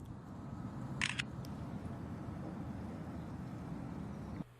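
A phone camera shutter set to fire on a spoken cheese fires as a quick double click early on, with a steady low background hum before and after.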